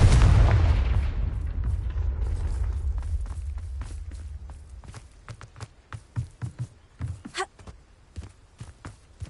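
A fiery Confringo spell blast in the Hogwarts Legacy video game booms loudly at the start and rumbles away over a few seconds, followed by scattered footstep-like thuds and small impacts.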